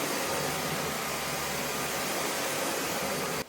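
A Dyson Ball Upright Animal Complete vacuum cleaner runs on a rug with a loud, steady whooshing drone that holds evenly, then drops off abruptly at the end.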